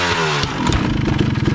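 Motorcycle engine revving hard and clattering as the bike climbs onto an obstacle at a motofest, a loud, close, throbbing burst of engine noise with knocks and scrapes.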